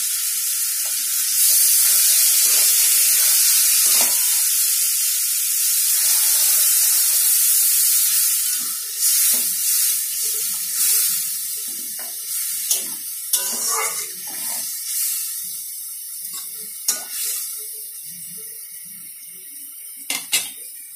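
Water is poured into a hot pan of mushrooms, setting off a loud burst of sizzling and steaming that hisses steadily, then fades into softer bubbling with scattered stirring clicks near the end.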